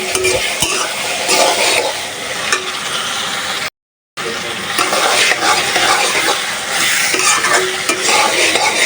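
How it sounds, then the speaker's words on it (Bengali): Dried ribbonfish shutki fries with spice paste in a pan, giving a loud, close, continuous sizzle broken by scraping stirs and one brief silent gap. "শুটকি দরটা হালকা একটু ভেজে নিই"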